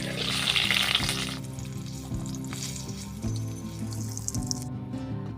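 Capsicum fries in a pan with a bright hiss that is strongest at first and then settles into a low crackling sizzle, over a steady background hum, before cutting off near the end.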